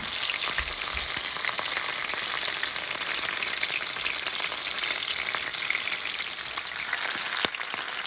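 Fish fries in about a cup of oil in a pot, a loud, steady, dense sizzle crackling without pause and with no talking.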